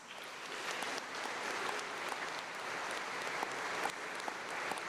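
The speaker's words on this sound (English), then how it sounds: "give them a round of applause." A church congregation claps steadily in sustained, even applause at a Confirmation Mass, filling the space without cheering or voices standing out.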